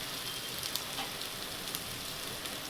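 Ground masala spices frying in oil in a pan, with the oil separating out, hiss with a steady, close sizzle and soft crackles throughout.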